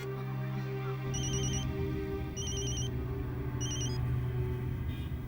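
A telephone ringback tone sounds three times in evenly spaced bursts through the earpiece during a call, set against a steady low hum of background noise.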